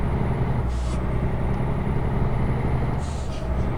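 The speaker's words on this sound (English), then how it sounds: "I love all the pneumatic sounds of changing gears." A truck's pneumatic air brake in American Truck Simulator releases two short hissing bursts, one early and one near the end, over a steady low engine rumble with no talk.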